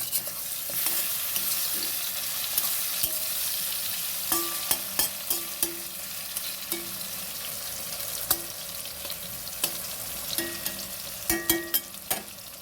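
Sliced pointed gourd frying in oil in a pan, a steady sizzle broken by repeated clinks and scrapes of a spatula turning the pieces, close and without talk.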